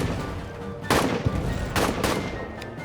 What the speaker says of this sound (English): Oh, we're getting artillery now.